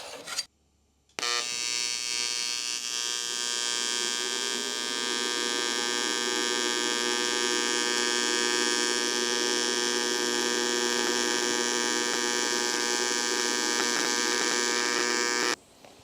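Yeswelder 200P TIG welder running a bead on aluminum with 1/8 inch filler rod for a duck boat repair, a steady buzzing hum with fine crackle lasting about fifteen seconds after a brief quiet start, then cutting off.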